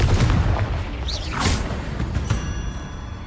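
A Confringo spell explodes in Hogwarts Legacy, a fantasy video game: a heavy booming blast with a sweeping whoosh, loud and close over a rumbling low background.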